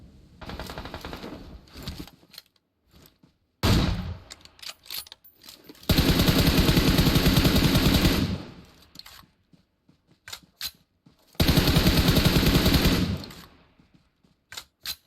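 Automatic machine gun fire in a shooter video game, loud close bursts of rapid rattling shots, several short ones early and two long sustained volleys, separated by near-silent gaps with scattered single shots.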